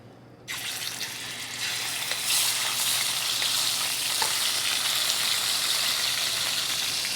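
Venison loin hits a hot pan and is moved around with tongs. A sudden loud hiss starts just after the opening and swells into a steady, close, intense searing sizzle with a few crackles.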